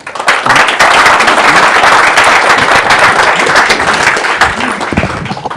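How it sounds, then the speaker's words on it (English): An audience claps loudly and steadily after a talk at a conference lightning talk session, a dense, sustained round of applause filling the room from start to finish. "let's have one more round of applause"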